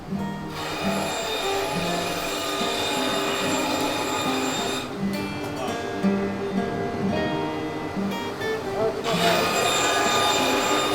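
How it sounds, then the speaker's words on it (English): Loud, steady woodworking machinery roar with a high whine fills a guitar workshop, broken by brief drops and surges as ebony for fretboards feeds through. "go to the machine room, it's very loud"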